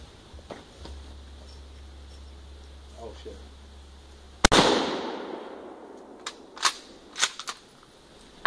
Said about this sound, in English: I'm gonna go put a couple of rounds into this sucker with the Mosin